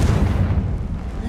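A Confringo blasting spell explodes in the video game Hogwarts Legacy with a single loud, deep boom that rumbles briefly and then fades.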